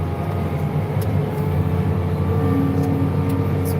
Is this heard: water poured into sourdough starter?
no